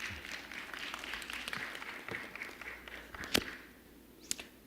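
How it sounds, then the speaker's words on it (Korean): Audience applause at a church seminar on online worship broadcasting, welcoming a speaker; a faint, steady wash of clapping that thins out, with a couple of sharp isolated claps near the end. "박수로 환영해 주시기 바랍니다"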